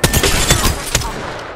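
Rapid video game gunfire, a quick loud burst of several close shots in tight succession with a short echoing tail.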